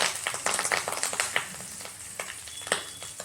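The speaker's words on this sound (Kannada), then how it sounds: "ಇದೆಲ್ಲ ಸ್ವಲ್ಪ ಚಟಪಟ ಅಂತ ಸಿಡಿಲಿ" Mustard seeds tempering in hot oil for bisi bele bath, giving a steady run of sharp, close crackles and pops with no voice over them.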